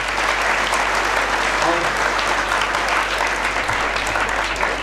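An audience breaks into loud, continuous applause that holds steady for several seconds, a dense, close wash of clapping with a low hum underneath.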